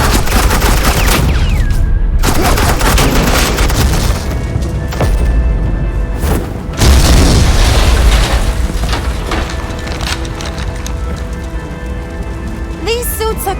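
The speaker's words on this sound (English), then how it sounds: "suppressing fire." Suppressing gunfire in Batman: The Telltale Series, a dense rattling fusillade of rapid shots with booming impacts sustained loudly throughout, mixed with game music and a character's voice.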